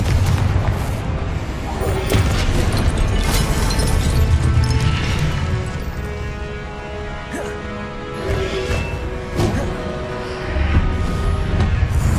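Blasting curse explosions go off in Hogwarts Legacy during a hard trial battle, with repeated booms and crashes amid dense, loud combat noise and scattered crackling bursts.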